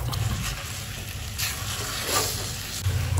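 Chicken afritada with garlic, onion, tomato, black pepper and salt sizzles steadily in a pan while being stirred, a continuous close frying hiss with soft scraping throughout.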